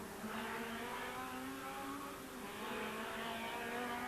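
Ford Sierra RS 500 race car engine at the Vila Real circuit in 1991, a sustained, fairly distant engine drone whose pitch rises and dips slightly as the car runs along the track.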